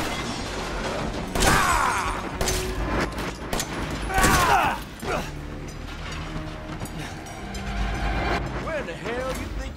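Gunfire in Resident Evil 7: a few loud, close shots spaced seconds apart, each with a metallic ring and echoing tail, over a murky game ambience while someone talks.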